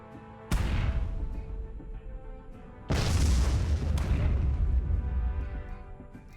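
Units in the sci-fi real-time strategy game Miner's Mettle fire their weapons: two heavy booming blasts, the second opening into a long, loud rumbling barrage, with no talk.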